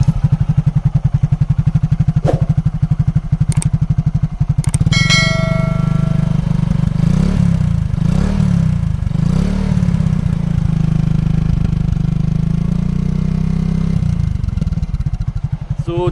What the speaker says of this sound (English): let's hear the exhaust sound of this motorcycle.